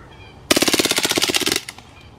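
An Umarex Beretta M9A3 blowback CO2 BB pistol emptying its magazine on full auto, a loud rapid burst of about twenty sharp cracks lasting around a second, then a short rattle and quiet.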